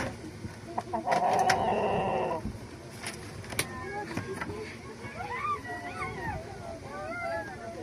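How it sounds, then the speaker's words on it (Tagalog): A rooster crows loudly nearby early on, followed by softer clucking and scattered bird chirps, with people talking in the background. "Paggabi na pala, pero tumitila pa rin yung manok."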